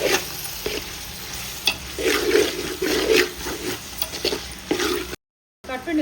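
Tomatoes frying in a pan with ginger-garlic paste for biryani, a moderate sizzle with repeated stirring and squelching scrapes, close by, ending in a brief silence and a short restart.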